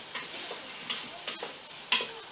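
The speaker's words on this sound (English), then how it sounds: "So let's throw the garlic in there." Garlic sizzles quietly in a pan with a soft background hiss, while a few sharp clicks and taps of a utensil cut in at irregular intervals.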